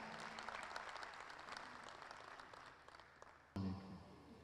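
Audience applause in a hall at a formal cultural event welcoming the Turkish Consul General, steady mid-level clapping that continues throughout and swells suddenly louder near the end.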